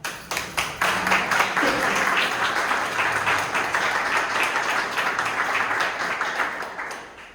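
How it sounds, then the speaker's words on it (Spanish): Audience applause welcoming a speaker at a conference session on ideology and Christianity, a steady wash of many clapping hands filling the room for about seven seconds before tapering off at the end. "Gracias a todos por este aplauso"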